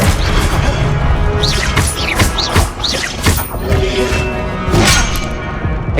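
Confringo blasting spells strike in rapid succession in the Hogwarts Legacy video game, a dense run of loud booming, crashing impacts with whooshes over several seconds.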